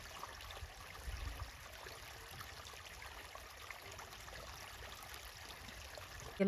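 Irrigation water running steadily into a potato field, a soft continuous flowing wash that stays faint and even throughout, with no voices.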